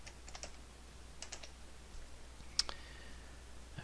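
Keystrokes on a computer keyboard typing in a file name, quiet and close, in a few short bursts of clicks with one sharper tap near the end, no voice over them.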